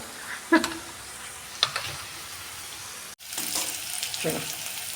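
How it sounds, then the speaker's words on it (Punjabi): Onions fry quietly in a pan for baingan bharta, a soft, steady sizzle with a few brief clinks and stirring sounds, fairly faint and without talk. "ਦੇਖੋ ਜੀ ਪਿਆਜ਼ ਸਾਡੇ ਜਿਹੜੇ ਇਸ ਤਰ੍ਹਾਂ ਭੁੱਜ ਗਏ ਆ"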